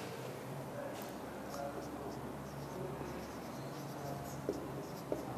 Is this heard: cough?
no